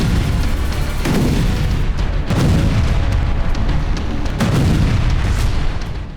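Heavy booms thud repeatedly through a loud, continuous rumbling roar, several blasts standing out a second or two apart like distant shelling, from S-300 missile strikes on Kharkiv, Ukraine.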